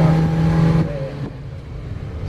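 A Subaru Vivio T-top, a fuel-injected retro kei car, runs with a steady engine drone that eases off partway through, heard from inside the car with no talking.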